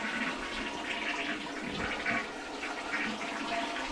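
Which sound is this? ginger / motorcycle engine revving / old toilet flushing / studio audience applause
old toilet flushing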